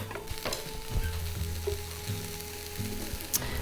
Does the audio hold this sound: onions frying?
yes